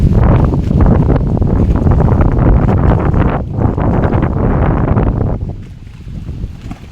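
Strong wind roars across an open pond at Nong Sung in Thailand, buffeting the microphone with heavy gusts while waves slap against the shore; the blast stays loud and rough before easing near the end.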